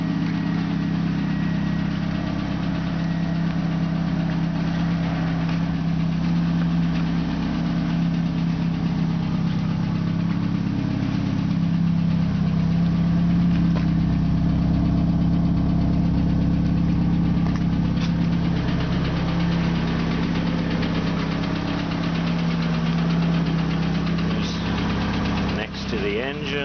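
A car engine idles with a steady mid-pitched drone and a faint repetitive tapping running through it, close and continuous for the whole stretch, with a brief clatter near the end.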